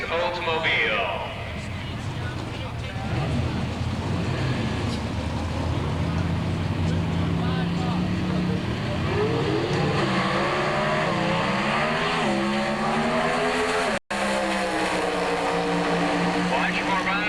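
Pro Stock drag cars from 1986 roar at the launch, including a 1986 Oldsmobile. The engines give a loud, sustained rising howl through the run, and a race announcer talks over them the whole time.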